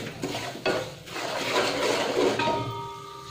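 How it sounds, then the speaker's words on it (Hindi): Semolina and dry coconut roasting in a pan for suji halwa, stirred on low heat with repeated scraping strokes and soft light sizzle, close and moderately loud with no talk. "इसको हल्का ब्राउन होने तक एकदम कम आँच पर अच्छे से भुनेंगे"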